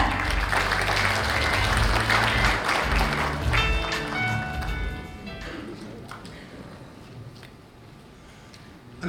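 An audience at an international drone sports and entertainment conference in Yeongwol applauds to welcome the county governor, the clapping loud at first and thinning out toward the end as a voice comes in.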